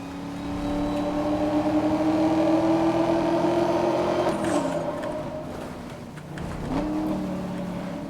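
A car accelerating in Need for Speed: Most Wanted (2012), engine note climbing steadily and loudly, then dropping sharply as it shifts gear before rising again.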